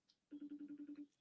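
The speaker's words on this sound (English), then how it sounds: "It's still ringing. Can you guys hear it?" A telephone rings with a quick burst of about eight evenly spaced electronic trill pulses, faint and clear against near silence.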